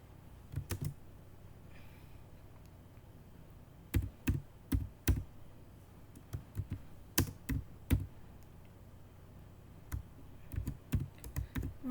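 Keys clack on a computer keyboard in irregular bursts of taps, some single and some in quick clusters, fairly close and clear with no talking.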